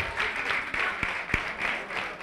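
Crowd applause at a robot combat competition after a free-for-all battle, a steady wash of many hands clapping across the whole stretch with a few sharper individual claps standing out.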